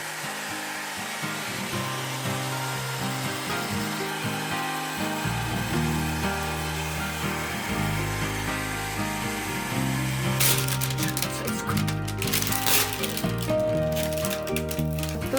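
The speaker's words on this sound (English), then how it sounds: "We've got a glass scraper and a hair dryer to heat it up to help remove the film on it." A hair dryer blowing steadily up close, heating window film in a bedroom so it can be scraped off the glass, with a constant whirring drone and scraping noises added toward the end.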